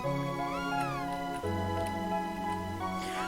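A cat in the game Chrono Trigger, with meows heard over the game's steady synthesized music and no talking.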